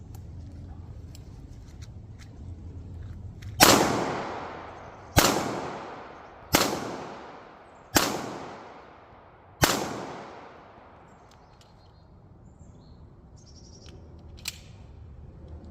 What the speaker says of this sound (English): So we're gonna take our first shots now, kind of with this pistol, on camera